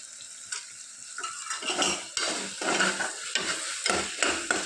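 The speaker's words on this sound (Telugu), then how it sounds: "ఇప్పుడు మనము కొద్దిగా జీడిపప్పు వేసుకుంటున్నామండి" A spoon scrapes and stirs repeatedly through cashews frying in a pan, a rhythmic clatter over a light, continuous sizzle.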